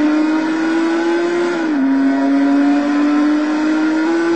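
Esperante GTR-1 race car engine in the Total Immersion Racing video game, a loud steady drone holding pitch, dipping briefly at a gear change near the middle, then climbing again, heard alone without talk.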